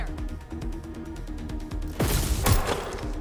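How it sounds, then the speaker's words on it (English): Gunfire in the video game Watch Dogs: Legion, a sharp burst of loud shots arriving after steady background music, with a second cluster of cracks following close behind. "Shots fired!"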